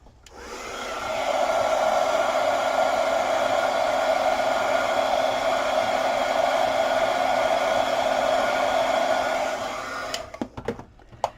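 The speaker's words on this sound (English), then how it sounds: "I'm going to use the heat gun a little." A heat gun blows on a painted junk journal cover, a loud steady whooshing whir that starts up, holds for several seconds, then cuts off, followed by a few light handling clicks.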